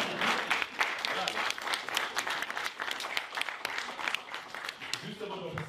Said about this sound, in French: vous pouvez m'applaudir aussi